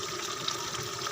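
Water poured into a cooking pot while preparing kinilaw, a steady broadband splashing and rushing flow that stays loud and close for the whole short stretch without a break.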